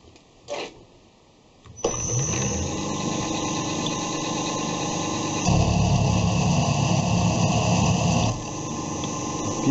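A milling machine runs with a 16 mm HSS cutter at about 500 rpm, a steady loud mechanical whine and hum that starts after a brief knock and swells louder midway before easing back.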